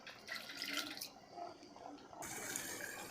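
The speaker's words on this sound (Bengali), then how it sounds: "এখন অল্প পরিমাণে পানি দিয়ে দিব।" A little water is poured into a pan of spiced chicken pieces for curry, making a brief gushing splash, a short pause, then a second steady pour, close and fairly quiet with no speech.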